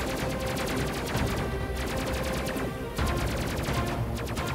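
Ship guns firing in the space combat game Space Crew, a loud rapid stream of repeated weapon shots with brief pauses, like sustained automatic fire.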